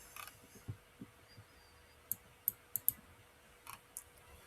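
Several sharp, faint computer mouse clicks at a desk while searching for a JavaScript coding answer, spaced irregularly over a quiet room hum, with a tight cluster of clicks near the middle.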